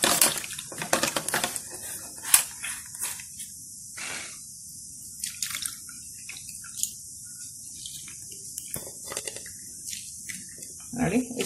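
Tamarind pulp is squeezed and mashed by hand in water for tamarind rice. Close, irregular wet squelches and splashy bursts come in short clusters over a soft hiss.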